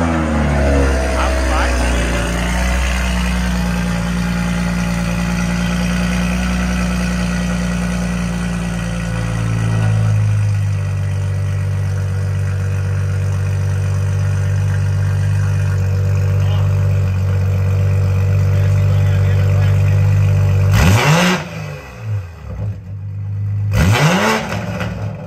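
A BMW Z4's engine runs loud and close, idling with a steady hum, then revving up with a sweep in pitch, and two sharp blips near the end.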